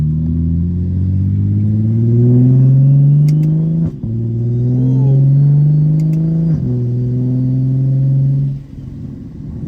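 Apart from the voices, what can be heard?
straight-piped turbo car engine revving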